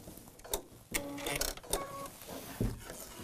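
Sewing machine stitching a batik quilt block along a marked line, heard as short mechanical whirring bursts with brief stops and restarts, close and fairly quiet, with no talk.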